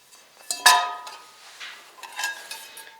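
Frontier skillet, a camp cooking pan, handled with a sharp metallic clank near the start followed by lighter knocks and rattles over a few seconds, close up with no talk.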